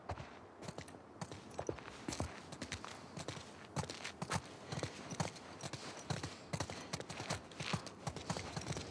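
Horse hooves clip-clopping at a steady walking rhythm in a video game, The Last Of Us Part 2, close and moderately loud over a town patrol setting, alone without talk.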